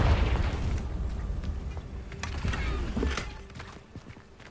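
A heavy fire-blast spell explosion in Hogwarts Legacy, a deep boom up front that decays into rumbling debris and scattered crackles and thuds, loud and close with no talking.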